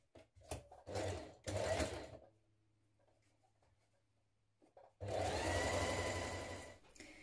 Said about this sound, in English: When we've done that, we're going to stitch that in place.